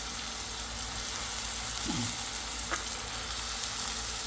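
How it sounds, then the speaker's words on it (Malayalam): Spring onions and onion flowers fry in a pan, a steady soft sizzle running throughout with a brief scrape or stir near the middle, close and moderately quiet, with no voices. "നമ്മുടെ ഉള്ളി ഇനി കുറച്ച് കുറച്ചായിട്ട് ഇട്ട് കൊടുക്കാം"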